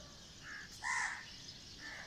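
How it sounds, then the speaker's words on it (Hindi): A few crows caw faintly in the distance on an early-morning walk, with two or three short harsh calls over a quiet outdoor background. "कौवे भी बोल रहे हैं।"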